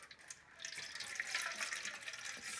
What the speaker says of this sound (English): The child's going to pour the water in to the container.